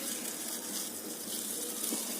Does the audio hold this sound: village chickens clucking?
no